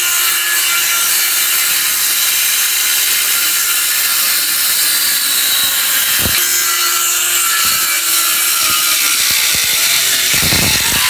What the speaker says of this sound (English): whipped out my power tools.